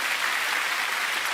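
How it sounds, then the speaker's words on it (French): Audience applause during a French magic show on a TV set, a steady dense clatter of clapping throughout the short moment, moderately loud with no voices over it. "Allez, applaudissements pour Jérémy."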